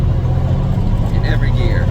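A T800 truck driving with its engine floored on a test drive, a steady loud low rumble of the engine with someone talking over it.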